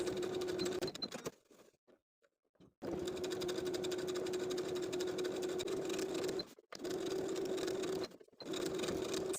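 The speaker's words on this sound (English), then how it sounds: "As I was understitching, I did stop and start my stitches on either side of the bottom of the V for both front and back pieces" A sewing machine understitching fabric runs in steady bursts, pausing briefly twice and once for a longer stop, with a constant mechanical whir and no voices.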